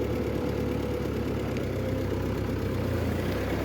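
A 1950 Ford 8N tractor engine running in first gear, a steady low rumbling drone with even mechanical vibration throughout, close and continuous.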